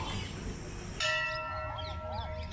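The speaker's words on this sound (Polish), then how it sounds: "Wieczorny dzwon do dziś zwołuje mieszkańców" An evening temple bell at the Matangi temple in India strikes once with a sudden, ringing onset and then hums on as a long sustained tone, with a steady background hiss and faint birdlike chirps around it.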